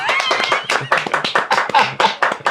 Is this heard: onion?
no